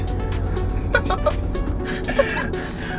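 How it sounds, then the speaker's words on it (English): A Jeep Trackhawk with headers and its stock exhaust rumbles loudly on a cold start, a deep, steady engine drone with brief sharper bursts, and faint voices nearby. "The stock exhaust is pretty loud."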